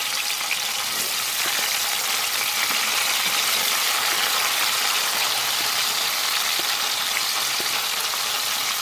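Chopped onions fry in a hot pan for a Ghanaian garden egg stew, giving a steady, close sizzle and crackle that holds evenly throughout with no talking.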